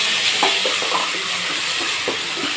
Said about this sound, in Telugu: ఇప్పుడు కలిపి పెట్టిన మిశ్రమాన్ని ఇందులో వేసేసి మగ్గించుకోవాలి